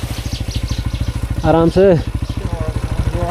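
A parked motorbike idles with a steady, close, rapid thumping pulse in a snowy Kashmir market, briefly overlapped by a short spoken phrase.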